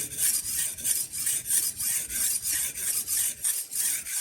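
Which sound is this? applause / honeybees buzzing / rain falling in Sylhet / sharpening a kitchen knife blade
sharpening a kitchen knife blade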